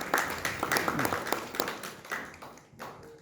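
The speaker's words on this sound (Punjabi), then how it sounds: "ਉਹਨਾਂ ਲਈ ਜ਼ੋਰਦਾਰ ਤਾੜੀਆਂ ਜ਼ਰੂਰ ਹੋਣੀਆਂ ਚਾਹੀਦੀਆਂ" An audience claps in applause for an organization's work at a Punjabi stage play event, a dense steady patter of many hands filling the room, moderately loud and sustained throughout.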